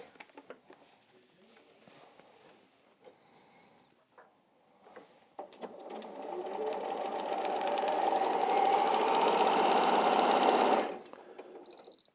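A sewing machine stitches a seam, starting with a few short bursts and handling sounds, then running in one long, steady, close whirring stretch before stopping abruptly.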